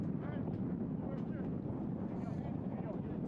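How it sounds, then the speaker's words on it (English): Strong gusting wind buffets the microphone at an outdoor soccer stadium during an evening professional match, a steady loud low roar with a faint voice underneath. "I mentioned the winds at 20 miles per hour."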